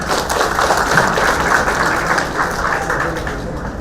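A graduation ceremony audience claps in a dense, continuous burst of applause that stays loud and even throughout.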